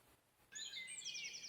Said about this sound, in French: Les oiseaux chantent encore doucement avant la tombée de la nuit.